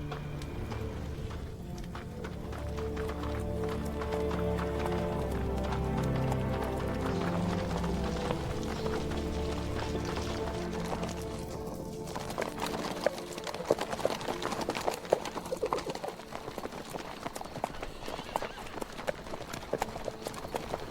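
A horse's hooves clatter in a fast, steady galloping rhythm over a long stretch, with music and occasional voices mixed underneath.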